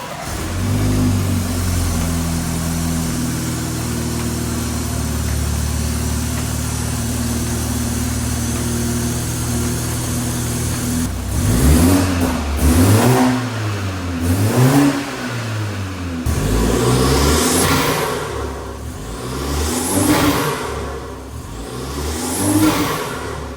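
Upgraded BMW 330i engine idles near and loud, then revs repeatedly in several sharp bursts that climb and fall back, with no talk.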